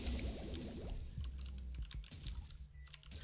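Rapid keys clatter on a computer keyboard during a Binding of Isaac game session, with dense irregular clicks throughout under low game sound.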